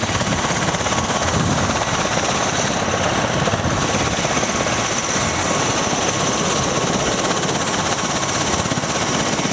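Bell Boeing V-22 Osprey tiltrotors arrive at the Singapore Airshow 2014 with a loud, steady rotor and engine roar that stays close and constant throughout, with no talk.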